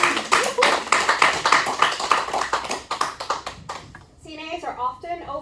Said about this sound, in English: I want us all to take a moment and offer a round of applause